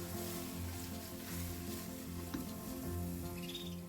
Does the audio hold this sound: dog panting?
no